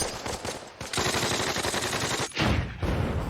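Gunfire in a World War II paratrooper training drama bursts in rapid, loud, close cracks that merge into a dense rattling volley, pausing briefly before another burst.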